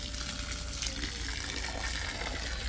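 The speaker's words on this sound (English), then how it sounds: "So it's pumping out water real quick." Water gushing steadily from a submersible sump pump draining a pool, a continuous close splashing rush with no voices.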